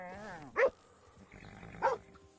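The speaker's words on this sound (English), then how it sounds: "A blue tick coonhound." A bluetick coonhound in the Red Dead Redemption 2 video game gives two short, sharp barks about a second apart, fairly close, with quiet game ambience and a brief voice between them.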